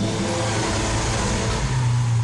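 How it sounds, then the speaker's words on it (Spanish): A Lamborghini Aventador V12 engine revs through its exhaust, a loud, continuous, rough mid-pitched roar close by that swells slightly toward the end, with no talking. "El motor V12 representa para nosotros el sonido, la música del coche"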